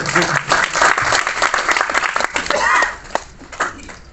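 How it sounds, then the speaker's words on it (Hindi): An audience at a Holi gathering and comic poetry event applauds, with dense, lively clapping from many hands that is loud and close at first, then thins out into scattered claps toward the end. "उसके लिए भी आप लोग तालियां बजाएं।"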